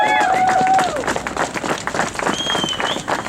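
Audience at a Second Amendment event in Albany, New York, applauding military veterans: a brief burst of crowd clapping, moderately loud, briefly overlapped by a voice at the start.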